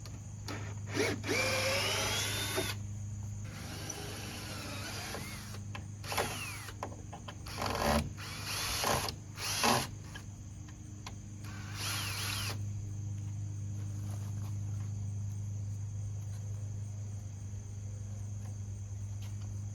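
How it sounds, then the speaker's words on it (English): A power drill whirs in short bursts while backing screws out of wooden porch stair stringers, the motor revving in and out several times over a steady hum and faint insect-like chirping in the background. "So try to run it in a little bit and out a little bit, wiggle it back and forth just like this, and then run it out."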